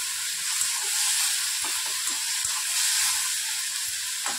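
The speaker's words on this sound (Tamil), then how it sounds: "வெங்காயம் இஞ்சி பூண்டு பேஸ்ட் நல்லா வதங்கிடுச்சு" Onion, ginger and garlic paste sizzling in hot oil for a mutton gravy, a steady close hiss of frying with occasional soft stirring scrapes and small pops, no voices.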